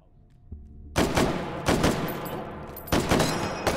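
An Ultimax machine gun fires in the VR shooter Hot Dogs, Horseshoes & Hand Grenades, loud, close rapid bursts of automatic fire, about four separate volleys with short gaps and ringing decay between them.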